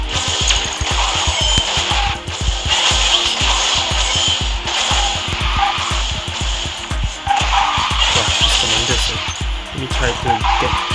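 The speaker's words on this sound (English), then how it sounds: "Sky Shadow is tier 0, but it has this nitro sound." Sky Shadow, a tier 0 car in the racing game QQ Speed Mobile, fires its nitro boost. A loud, continuous engine roar, tire screech and pulsing low thuds run throughout, with game effects layered on top.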